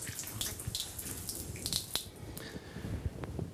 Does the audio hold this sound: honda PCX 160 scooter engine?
no